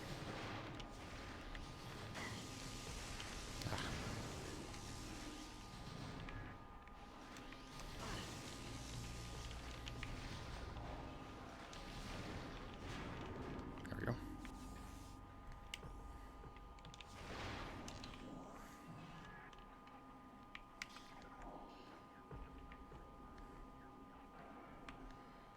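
Automated turrets fire in Metroid Prime, a string of faint, irregular booming shots and thuds over a low steady hum and ambient game music.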